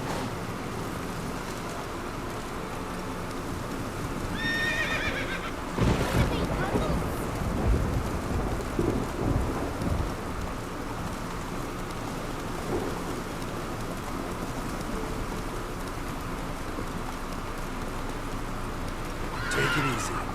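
A horse in The Witcher 3 gives several whinnies between galloping hoof clops, with rain and rumbling thunder in the background and someone talking at times.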